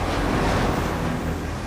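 Ocean waves and surf rolling against the outer inlets near a breakwater under construction at Venice, a steady loud wash mixed with wind rumble, continuous throughout with no speech.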